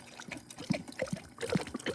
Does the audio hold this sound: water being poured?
yes